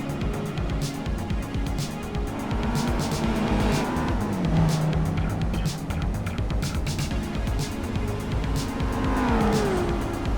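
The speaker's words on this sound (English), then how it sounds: "Mustang actually sounds pretty good" A Ford Mustang races in Gran Turismo 4, its engine droning loudly and steadily with rising and falling pitch as it shifts, plus tire squeal and other cars nearby.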